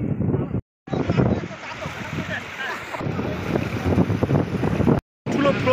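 Strong wind gusts across the microphone outdoors at Barahakshetra in Sunsari, Nepal, near the Saptakoshi river, a loud continuous rushing roar with a person talking underneath and brief dropouts.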